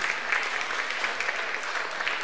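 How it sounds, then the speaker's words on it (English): Church congregation applauding for people celebrating December birthdays at a Sunday Christingle service, a steady wash of hand claps from many people, continuous and fairly even throughout with no speech over it. "let's give all those people standing up a big happy birthday clap"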